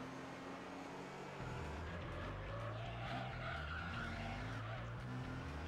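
Car tyres squealing and skidding while drifting through high-speed turns in the racing game Gran Turismo Concept 2002 Tokyo-Geneva, a sustained screech over a loud droning engine, no talking.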